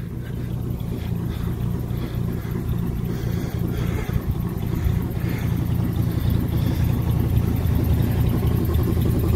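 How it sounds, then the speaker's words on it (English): A 1969 Ford C700 truck with a 330ci V8 idles steadily just after a cold start, a loud, continuous low rumble with no speech over it. "There you have it, she's running."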